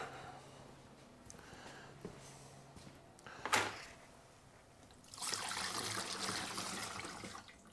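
Fluid draining out of a three-year-old truck's blown engine into a drain barrel, a steady trickle that turns into a louder rushing pour partway through. A metallic clunk comes just before the flow picks up.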